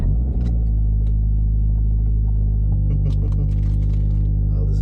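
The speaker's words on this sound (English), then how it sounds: "Oh, the fan is blowing full force." Air conditioning fan in a Toyota GT86 running at full force, a steady low rumble and hum inside the car cabin, continuous with faint clicks and no speech.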